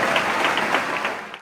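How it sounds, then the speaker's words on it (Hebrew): Applause from an audience at a ceremony dedicating a sports hall, a dense steady wash of clapping filling the whole moment before cutting off abruptly at the end. "תנו כפיים כולם,"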